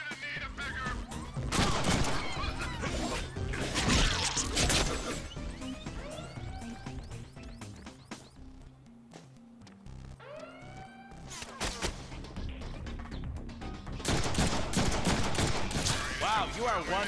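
Bursts of gunfire in the Deadpool video game, rapid volleys and scattered shots coming in waves with a quieter stretch in between, mixed with game voices talking over the shooting.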